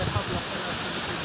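Badaghagara waterfall in Keonjhar roars as a dense, steady broadband rush of falling water, loud and close throughout the short stretch.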